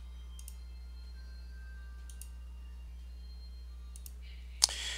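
Computer mouse clicks while applying a swap partition change in Ubuntu MATE on Linux: several faint, sparse ticks spread across a quiet room hum, ending with one sharper, louder click near the close.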